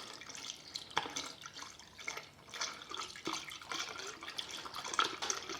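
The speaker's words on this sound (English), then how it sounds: "Now I'm going to put some Honda coolant in it." Honda coolant trickles and drips into a Honda GL1500 Goldwing motorcycle's cooling system, soft, uneven liquid pouring with intermittent drips, quiet and close.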